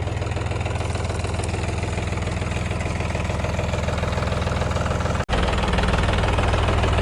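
A John Deere 5210 turbo tractor engine runs steadily at idle, a loud low chugging drone that briefly cuts out for an instant before continuing.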